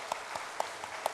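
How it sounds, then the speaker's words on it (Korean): Brief applause from a church congregation during a Parents' Sunday service, a few distinct claps standing out at an uneven pace over a soft steady wash of clapping, with no voices. "큰 박수로 환영합니다."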